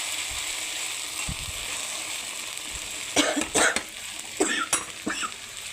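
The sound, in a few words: coughing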